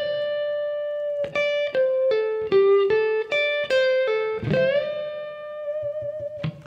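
An electric guitar plays a pentatonic lick slowly, picking clear single notes one by one and adding a bend and a little vibrato. The notes ring out alone with mild distortion, then end on a sustained note.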